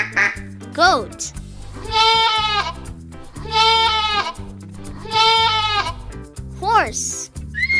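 A goat bleats three times in long, quavering cries separated by short pauses, over soft background music with sliding whistle tones at the edges.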